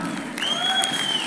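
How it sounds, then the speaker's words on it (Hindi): A crowd claps and cheers at a Ramayana film press meet, a steady wash of applause with a thin whistling tone rising over it partway through. "मैंने कहा तालियां हो जाए।"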